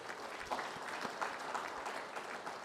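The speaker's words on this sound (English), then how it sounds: "let's give a big round of applause to the minister" Dense audience applause for a minister at an industry association's annual session, steady and fairly distant, filling the whole stretch with no talk over it.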